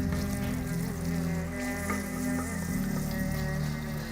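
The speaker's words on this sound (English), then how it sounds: "So now our onions are already really nicely caramelizing." Chopped onions fry and caramelize in a pan for butter chicken, a steady close sizzle with faint stirring throughout, no voices.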